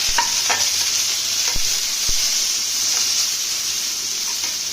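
Eggplant and leafy greens, salted and sprinkled with turmeric, fry in a pan with a loud, steady hiss and sizzle, punctuated by a few sharp clicks of a stirring spoon against the pan.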